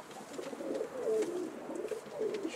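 Pigeons coo softly in an opened loft on a cold day, a few low, rolling calls close by in a quiet setting.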